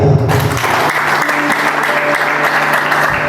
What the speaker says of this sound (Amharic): አጨብጭቡ ለጌታ።